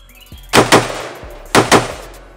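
Two pairs of loud, sharp gunshots from an AK-12 or a bullpup 12-gauge shotgun, each pair fired in quick succession about a second apart, close by with no talking.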